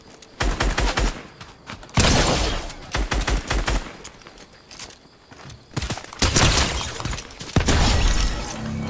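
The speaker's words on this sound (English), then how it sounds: "This calls for a shotgun." Shotgun fire in the video game Fortnite, loud repeated blasts with shattering debris and scattered impacts, coming in dense bursts across the whole stretch.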